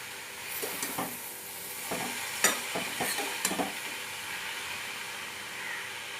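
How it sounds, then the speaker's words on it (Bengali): Spinach and mixed vegetables are stirred in a frying pan, with scraping strokes of the spoon against the pan in irregular bursts over a steady soft sizzle, close and moderately quiet. "পালং শাকটার সাথে সবজিগুলোকে ভালো করে মিশিয়ে নেব"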